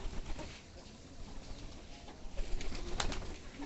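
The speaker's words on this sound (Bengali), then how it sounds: "কবুতরগুলো" Pigeons at a farm coo faintly under a steady rustling background, with light pattering and a few brief sharper sounds; quiet and somewhat distant.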